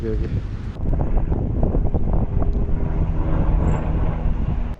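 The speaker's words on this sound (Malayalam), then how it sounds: "നല്ല തണുത്ത കാറ്റൊക്കെ അടിക്കുന്നുണ്ട്" Strong, cold wind buffets the microphone in a steady, low rumbling roar that continues throughout, on the trekking trail from Lukla to Phakding in Nepal.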